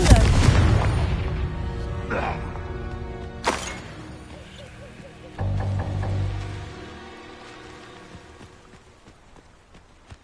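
Confringo fire spell cast in a Hogwarts video game, with several sharp booming blasts among game sounds and a sustained rumbling burst midway, loud and close, with in-game voices around it.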